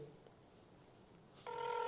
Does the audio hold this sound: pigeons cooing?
no